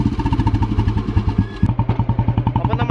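A 2002 motorcycle engine revving hard, close and loud, with a steady pulsing exhaust beat throughout and no talk over it.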